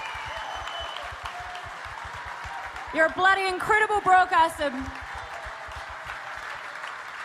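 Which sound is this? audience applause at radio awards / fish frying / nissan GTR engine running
audience applause at radio awards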